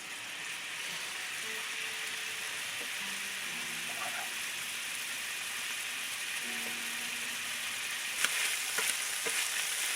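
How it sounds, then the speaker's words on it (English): Meat frying in vegetable oil in a skillet, giving a low, even sizzle. A few faint clinks and a brief scrape come near the end. No one speaks. "So my meat started to fry."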